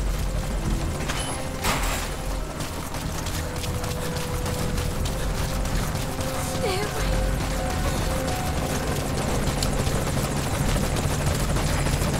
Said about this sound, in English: El helicóptero está un poquito en la mierda